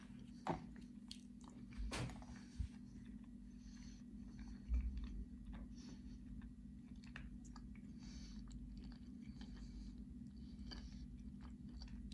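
Crumbly Bashkir nougat is bitten and chewed close up, with a few sharp crunches early on followed by steady soft mastication and faint crumbling, with no one talking.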